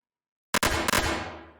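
Gunfire from a video game as shots hit an unkillable enemy in FGGF; after a moment of silence come two sharp, loud bursts of shots, each trailing off into a fading ring.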